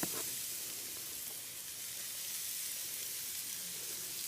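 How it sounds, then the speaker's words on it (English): Chopped onions added after garlic sizzle steadily in a hot pan, a loud, even frying hiss that begins with a brief sharp crackle and holds throughout without any voices. "after the garlic, you add in some chopped onions"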